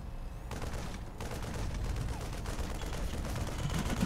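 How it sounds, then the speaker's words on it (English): Units in StarCraft open fire on an Overlord, a dense continuous rattle of rapid gunfire and impacts starting after a brief pause and sustained at moderate level to the end. "I'm shooting his Overlord here."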